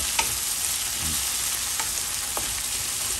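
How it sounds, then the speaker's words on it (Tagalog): Garlic sizzling in a pan and being stirred for adobong bangus, a steady loud fry with a few scrapes of the utensil, no voices. "Ayan, haluin na natin yan, o."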